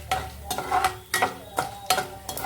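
Spices such as cumin and coriander fry in a pan while being stirred, with repeated scraping strokes about every half second over a soft background sizzle, close and fairly loud.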